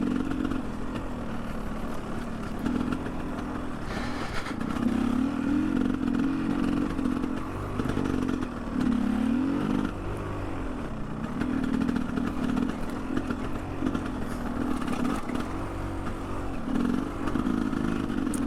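A Honda XR650R dual-sport motorcycle ridden on the road, its engine a steady, fairly loud drone with rising and falling pitch as the throttle changes, mixed with wind noise throughout.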